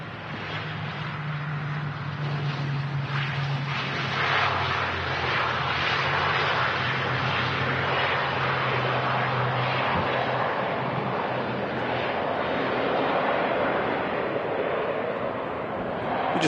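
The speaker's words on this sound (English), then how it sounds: "ATR 72 coming in next. Emerald Airlines." An Emerald Airlines ATR 72 turboprop coming in to land makes a loud, continuous broadband roar that holds steady throughout. A low droning tone fades out partway through.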